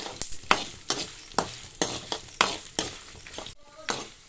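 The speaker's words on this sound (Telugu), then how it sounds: "ఇదిగోండి ఈ విధంగా ఫ్రై చేసుకోవాలి" Stuffed okra frying in plenty of oil with dried red chillies, a steady close sizzle broken by regular rhythmic stirring scrapes about twice a second.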